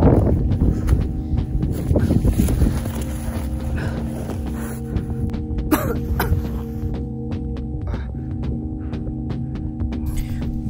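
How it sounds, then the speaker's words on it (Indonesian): Strong wind roars steadily across the microphone at the summit of Mount Kerinci, a continuous loud rumble with gusting buffets and no voices. "angin berhembus begitu kuat, membuat saya harus beberapa kali berhenti"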